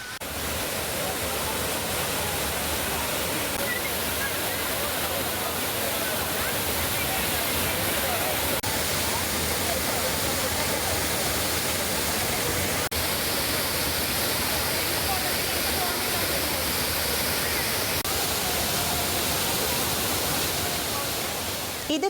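The Thiruparappu waterfall roars in a dense, steady, broadband rush of falling water with crowds of tourists bathing, and the sound stays loud and unbroken throughout.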